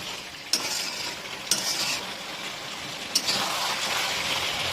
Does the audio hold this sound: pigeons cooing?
no